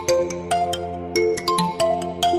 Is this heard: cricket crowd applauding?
no